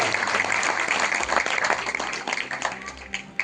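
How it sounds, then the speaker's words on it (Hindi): A live audience claps for the people on stage at a foundation's annual celebration with poets, a dense steady patter of applause that tapers slightly, with some voices mixed in. "जो मंच पे हैं उनके लिए तालियां"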